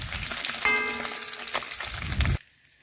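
Fish frying in hot oil for a Bengali fish curry, a steady close sizzle with crackling bursts that cuts off abruptly near the end, leaving near silence.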